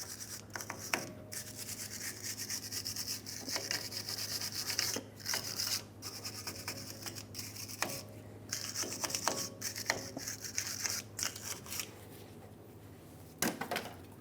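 A wire brush scrubs rust off the hub surface of a 2003-2009 Dodge Ram 2500 rear brake assembly, steady close rasping strokes with brief pauses, fairly quiet and with no talking.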